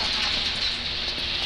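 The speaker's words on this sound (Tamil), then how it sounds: "உண்மையில இல்லை, இந்த கேமில் மழை வந்துட்டு ஆரம்பிச்சிச்சு." Steady rain falling in a video game, a continuous even hiss of drops with no talk over it.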